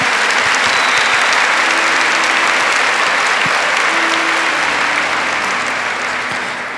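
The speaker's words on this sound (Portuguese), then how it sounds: "Isso você pode aplaudir." A large congregation at a Catholic retreat camp bursts into loud, dense applause. The thick, roaring clapping fills the space for nearly seven seconds and eases only slightly at the end.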